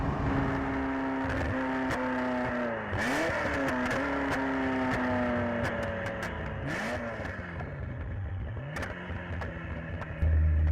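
A Ferrari F40 engine drones and climbs in pitch through several gear changes, with sharp pops and crackles from the exhaust, loud and steady throughout.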